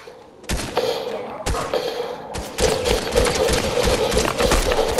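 Rapid bursts of gunfire from shooting a non-player character in Fortnite, sharp repeated shots starting after a brief pause and building into a dense, loud volley that continues to the end.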